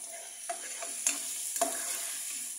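Sardines and other food are stirred while frying in a pan, a steady sizzle broken by a few soft scraping strokes of the utensil, heard close with no talking.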